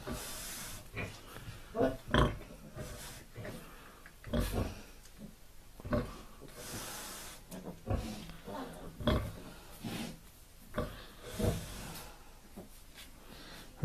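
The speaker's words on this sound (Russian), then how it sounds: "Свинка кормит поросят, первый раз" A sow nursing her litter of piglets gives repeated low, rhythmic grunts close by, some louder and some softer, spaced a second or two apart, with faint squeals and rustling from the piglets in the pen.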